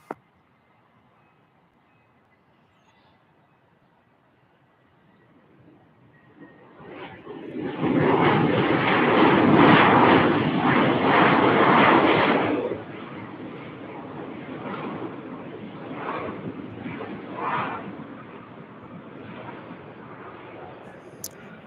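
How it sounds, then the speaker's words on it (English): A Delta Boeing 767 heavy jet departing Salt Lake City, its engine roar swelling from quiet to a loud broad rumble, then easing to a steady, distant drone. "All right, our 767's ready to depart off to ATL, the ATL."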